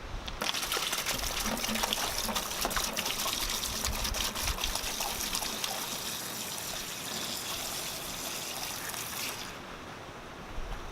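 Liquid cleaner, LA's Totally Awesome or Mean Green from a one-gallon jug, pours in a steady continuous gush for about nine seconds, splashing close up before stopping abruptly.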